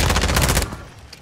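Rapid automatic gunfire from a video game, a dense burst of shots for about half a second that cuts off and leaves a faint tail.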